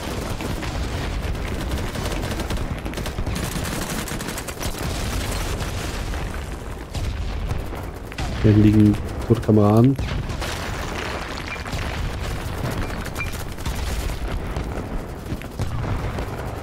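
Gunfire bursts echo in BattleBit Remastered, a short loud volley cracking over a busy battlefield background while a German voice talks through most of the stretch.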